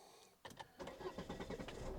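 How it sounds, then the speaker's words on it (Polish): A second-generation Volvo S80 is started with the key and Start/Stop button, giving a short starter crank followed by the engine catching and settling into a steady idle, heard up close and fairly quiet. "No i auto odpalone."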